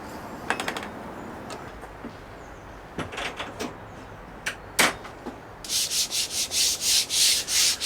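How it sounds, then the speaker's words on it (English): Rubbing down waney-edge wood on a cabin: scattered scrapes and rubs at first, then a run of rhythmic back-and-forth sanding strokes, close and fairly quiet. "More rubbing down."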